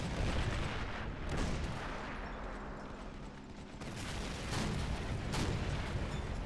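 Tank cannon blasts in Men of War: Assault Squad 2, a WW1 mod battle, with several heavy booming shots over constant battlefield rumble.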